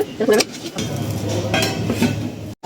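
Rice-flour dough for steamed ukadiche modak is stirred in a hot pot, with close clinks and scrapes of a utensil against metal, irregular and fairly loud, a few sharper knocks among them.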